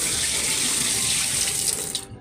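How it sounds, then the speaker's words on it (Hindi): Water gushes steadily out of a washing machine under home repair, a continuous broad rushing flow like a running tap that stays even and fairly close before cutting off abruptly at the end. "तो ये अभी पानी निकल जाएगा।"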